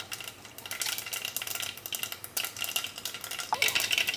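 Mustard seeds and then cumin crackle in about three ladles of hot oil for a tempering, a steady close sizzle with scattered pops and a few utensil clinks, no voices.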